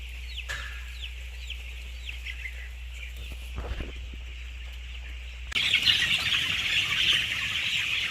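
Many broiler chickens clucking and chirping steadily inside a poultry house, with a constant low mechanical hum underneath; the chatter grows louder and denser partway through.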